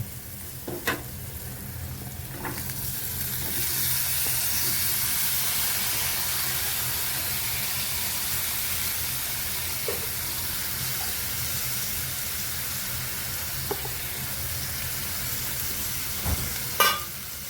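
Sprouted lentils and ridge gourd sauté in spiced oil with a continuous close hiss and sizzle, broken by occasional sharp scrapes and taps of a stirring spoon.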